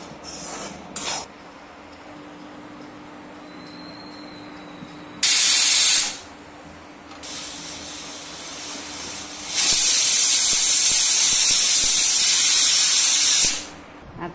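Garlic sizzles and hisses as it roasts in a pan with coconut and peanuts, with a faint steady crackle broken by several loud bursts of spraying sizzle, the longest lasting a few seconds.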